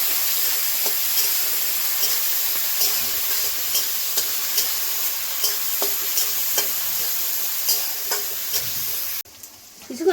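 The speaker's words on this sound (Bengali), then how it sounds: "দিচ্ছি লবণ, কিছুক্ষণ ভেজে নেব।" Frying in a pan with salt added, a loud continuous close sizzle with scattered light pops and crackles, cutting off abruptly near the end.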